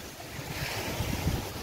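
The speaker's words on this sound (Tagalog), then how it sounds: "simoy ng hangin overlooking yan sa tabi ng dagat" Sea waves wash ashore at Bangay-Bangay Beach in Salay, Misamis Oriental, under a steady breeze that rumbles against the microphone. The surf sounds close and continuous, with no talking.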